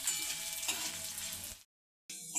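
Curry leaves sauté in a pan for a Marathi chutney, with a loud, close, crackling sizzle that runs steadily, cuts out briefly, then comes back.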